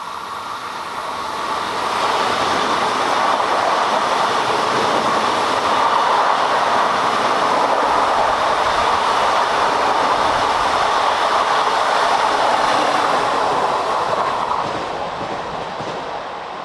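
Three DB class 430 S-Bahn electric trains pass on the Riedbahn line, a loud sustained rumble and rush of wheels on rails that swells in, holds steady for over ten seconds, then eases slightly at the end, with no voices.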